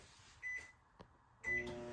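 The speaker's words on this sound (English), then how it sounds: "I'm just going to put this in the microwave for 30 seconds" Microwave oven being set to heat food for a chicken quesadilla: two short electronic keypad beeps about a second apart over a faint, steady low hum, close and quiet.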